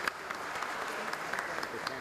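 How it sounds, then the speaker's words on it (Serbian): Applause in the great hall of the Serbian National Assembly during a parliamentary session, welcoming guests in the gallery; steady, moderately loud clapping from many hands throughout, with a faint voice mixed in. "Molim da aplauzom pozdravite goste"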